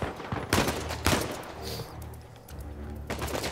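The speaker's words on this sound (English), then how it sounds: "I'm just going to shoot these guys." Bursts of gunfire from a shootout in Uncharted 4: A Thief's End, several loud sharp shots in quick succession with echoing tails, followed by quieter scattered fire.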